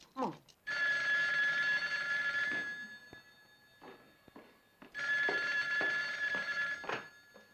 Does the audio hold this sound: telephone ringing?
yes